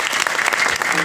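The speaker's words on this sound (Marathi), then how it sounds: "एकदा जोरात टाळी वाजवा." An audience claps loudly and steadily throughout, a dense, close burst of applause from a crowd at a live event.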